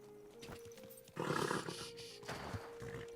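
Horse hooves clip-clopping at a moderate pace in the video game Kingdom Come: Deliverance II, with a louder burst of movement midway over a faint tonal hum in the background.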